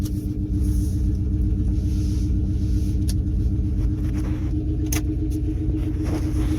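A second-generation 1500 truck with its catalytic converter deleted and open headers revs hard, a loud, throaty, rumbling engine roar running steadily throughout, up close and alone.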